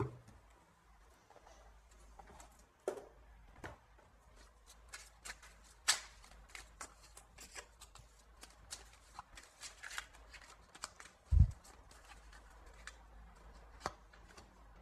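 Oracle cards shuffled by hand, giving soft, scattered riffling taps and flicks that come and go with no voices, with one sharper thump near the end.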